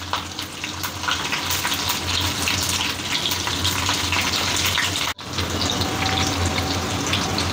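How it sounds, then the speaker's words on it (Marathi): Water runs and trickles steadily as it is squeezed out of bitter gourd, a close, continuous splashing hiss with one brief break partway through. "आता कारल्यामधलं पाणी आपण पिळून काढायचं."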